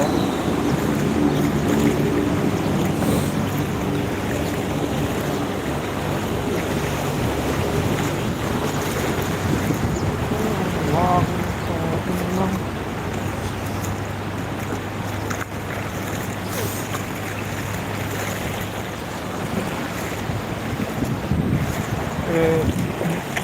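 Floodwater on a rain-submerged Dubai street is churned into waves by passing cars, heard as continuous rushing water and traffic under heavy wind buffeting on the microphone.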